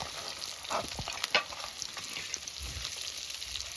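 Red chilies sizzle in hot oil for a Kashmiri-style fish dish, a steady close crackle with a few sharper pops and stirring scrapes partway through, no voices.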